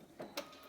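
Quiet home sewing machine back-stitching at the end of a bias-binding seam, two short mechanical whirring bursts close by in an otherwise hushed room.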